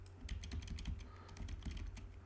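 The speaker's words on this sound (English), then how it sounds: "so I can go and type in some" Quick, irregular keystrokes tap on a computer keyboard, close and fairly quiet, a steady run of light clicks with a low hum underneath and no talking.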